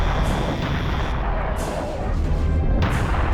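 Heavy booming cannon blasts in the video game Serious Sam, a dense continuous rumble with sharp bursts layered over loud low-end noise.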